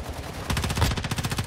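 Rapid automatic SMG bursts in the Warzone Mobile shooter game, a fast even train of loud close shots that kicks in about a third of the way through and keeps firing to the end.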